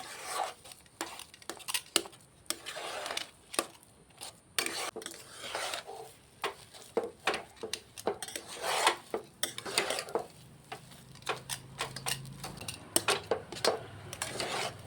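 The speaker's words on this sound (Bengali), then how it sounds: "আমি এটাকে লো ফ্লেমে রেখে একটা ভালো করে মন্ড তৈরি করে নেব" Semolina and milk dough being stirred in a pan over a low flame, with steady scraping and rasping strokes of a spoon against the pan, close and fairly quiet, without talk.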